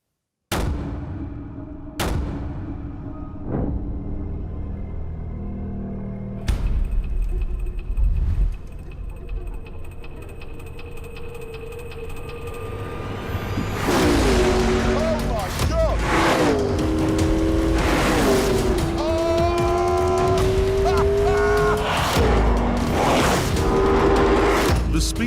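McLaren P1 hybrid sports car accelerating hard, first with sharp loud pops and bangs, then a sustained roaring engine rising through rapid gear changes, loud and close.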